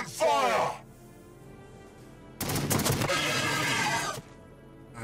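Gunfire in Warhammer 40,000: Battlesector: a short burst near the start, then a longer, loud volley of rapid shots lasting about two seconds, with quieter gaps between and what may be voices in the mix.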